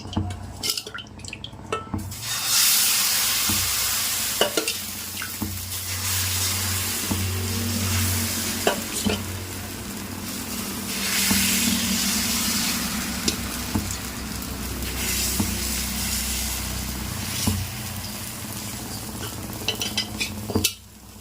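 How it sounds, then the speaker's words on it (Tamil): Rava dosa batter sizzles loudly on a hot pan, a continuous crackling hiss with scraping and clinking of a utensil against the pan throughout, no talking. "ஸோ ரெண்டாவது தோசை ஊற்றுவோம்"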